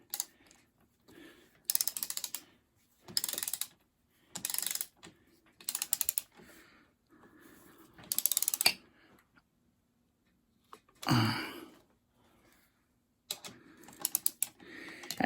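A ratchet clicks in short bursts as a plain bolt is tightened on the front forks of a vintage Honda CL350 under restoration, with quiet pauses between each run of rapid pawl clicks, heard up close.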